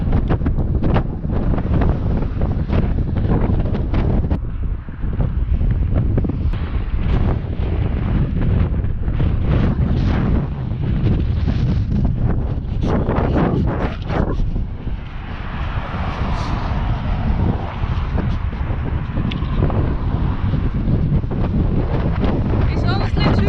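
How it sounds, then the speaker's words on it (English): Strong wind buffets the microphone continuously, roaring and rumbling loudly while cycling across Shikoku, with gusty surges throughout. "It's honestly too windy to bike here."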